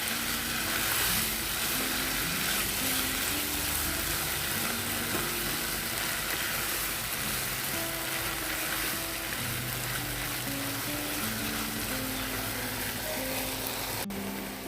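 Small kanchki fish frying in a pan, stirred steadily, with a continuous loud sizzle and crackle throughout and occasional scraping of the spatula, no voices.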